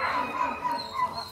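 Dogs at a crowded public shelter in Bresta whimper and yip in a brief, close burst of high, strained cries.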